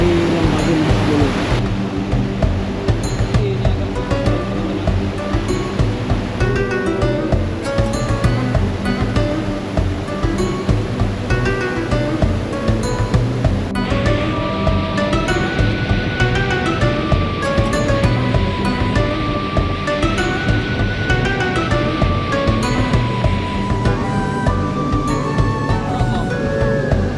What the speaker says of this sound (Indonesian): Ini dia teman-teman jeramnya teman-teman.